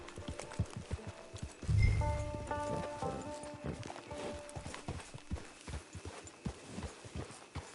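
Horse hooves clip-clop in Red Dead Online, an irregular run of close hoofbeats on the ground alongside a brief loud low thud, soft game music and ambient tones in the background.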